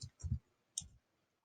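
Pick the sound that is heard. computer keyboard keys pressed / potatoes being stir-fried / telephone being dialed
computer keyboard keys pressed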